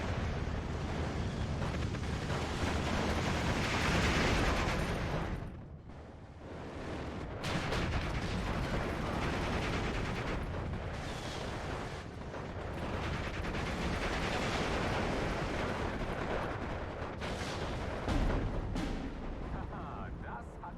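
Guns in the video game Steel Division 2 fire at transports in dense, rumbling battle noise, with booming shots and mechanical clatter that dip briefly before resuming loud and steady.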